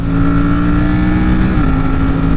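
A motorcycle fitted with a quickshifter drones loud and close with a steady engine note, its pitch dipping briefly partway through a gear change.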